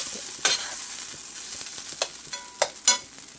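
Eggplant fries in oil for masala vankai, giving a continuous close crackling sizzle. Sharp scrapes and stirs of a spatula stand out at intervals.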